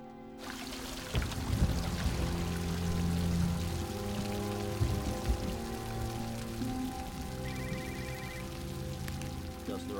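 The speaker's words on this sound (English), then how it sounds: "It's raining now." Steady rain pours and patters on a surface, a continuous wash of drops with some low rumbling in the background.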